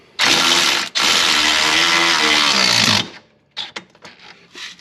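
A close, loud, buzzing whir of a 90-degree power ratchet running down a bolt on a Can-Am Defender, two sustained bursts with a short break, then quiet clicks and a voice.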